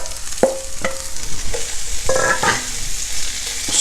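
Peppers and shallots frying with sweet potatoes in a pan give a loud, steady sizzle. Several sharp clacks and scrapes of a utensil tossing the food sound close by, and nobody talks.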